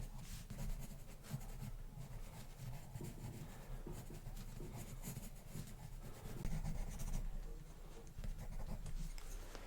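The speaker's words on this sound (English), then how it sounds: "you can just dance the pencil just around the outer edges" A pencil lightly sketching tree branches on paper, a continuous soft scratchy scribble of quick short strokes, close and quiet, with no talking.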